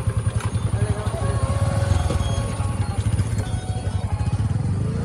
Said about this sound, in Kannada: ಇದರಲ್ಲಿ ಗಾಡಿಗಳು ಓಡಾಡುತ್ತೆ